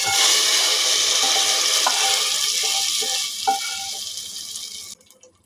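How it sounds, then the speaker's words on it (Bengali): Fried onions tipped onto chickpea dal set off a loud, steady sizzle with stirring clinks. The sizzle fades and cuts off near the end, and no one speaks. "আমার পেঁয়াজটা ভাজা হয়ে গেছে আমি এর উপরে দিয়ে দিই"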